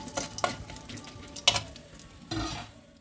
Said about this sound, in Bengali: এবার এটাকে ভালোভাবে আমি তেলেতে নেড়ে নেব।